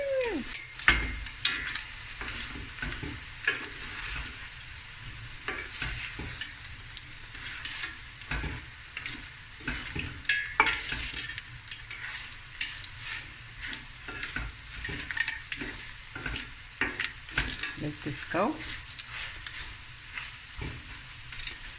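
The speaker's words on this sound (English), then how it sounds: "now we're just gonna stir fry on high heat" Seafood and cooked rice stir frying on high heat, a continuous loud sizzle broken by frequent scraping and stirring strokes of a utensil against the pan, with a brief spoken remark.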